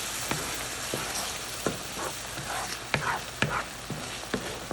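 Tomato puree fries in a pan for dhaba-style matar paneer with a rough, crackling sizzle, while a spoon stirring it adds irregular sharp taps and clicks.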